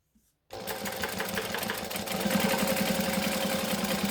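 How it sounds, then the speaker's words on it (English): A sewing machine bastes a seam on suede, starting abruptly after a brief silence and running in a fast, steady mechanical whir that grows slightly louder and heavier as it continues. "Then I'm going to flip it over so I can start from the bottom and I'm going to baste up this side."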